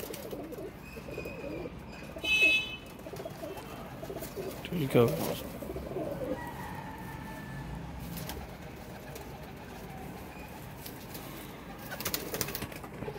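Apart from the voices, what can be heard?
pigeons cooing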